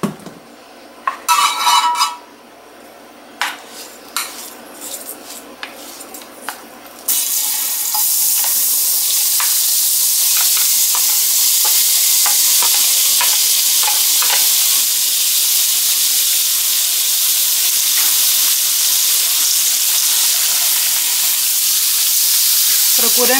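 Shrimp stir-frying in a hot pan for Chinese-style shrimp noodles: a few clanks and stirring scrapes at first, then a loud, steady sizzle that fills the rest of the clip with occasional ticks of stirring.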